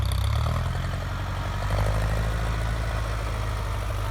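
A Ford 6610 farm tractor idles on an earth-moving job site, its diesel engine giving a steady low rumble with a throbbing, even beat, close and continuous with no talk.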